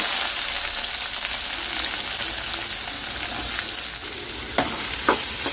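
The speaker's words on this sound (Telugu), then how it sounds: "కొంచెం ఫ్రై చేసుకోండి." Onions fry in hot oil in a pan with a steady, loud sizzling hiss throughout, broken by a couple of faint stirring clicks near the end, heard up close with no voices.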